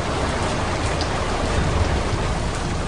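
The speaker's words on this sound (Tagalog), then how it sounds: "kapag patuloy ang pagbuhos ng ulan" Heavy rain pours steadily in a dense, even hiss of drops on surfaces, loud and close with no break and no voices throughout.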